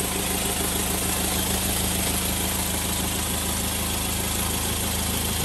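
Land Rover Defender 110 County utility station wagon with a 2.2 TDCi diesel idling in the open engine bay, a steady, even, close rumble with constant mechanical clatter and no changes in speed.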